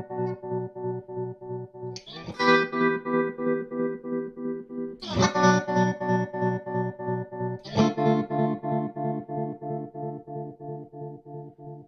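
Electric guitar through a Flux Effects Liquid Tremolo pedal: three ringing notes struck a few seconds apart, each sustained under a steady, rhythmic volume pulse that keeps throbbing throughout, with no talking.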